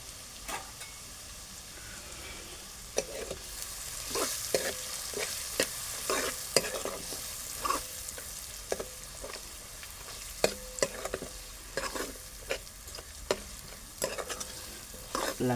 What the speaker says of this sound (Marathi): ढवळून घेतो.